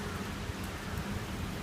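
Heavy typhoon rain in Tokyo, a steady, close hiss of dense rainfall with no voices.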